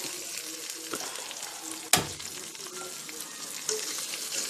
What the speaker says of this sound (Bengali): মশলাটা কষিয়ে নেব, এর জন্য একটু সামান্য পানি দিয়ে দেব।